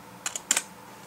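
Quick keystrokes on a computer keyboard while a package-install command is typed into an openSUSE Linux terminal: four crisp, close clicks in two pairs, then quiet.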